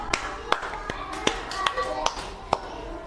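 Children in a classroom clap their hands in a loose, sparse pattern, with several sharp separate claps spread across a few seconds, some sounding nearer and louder than others.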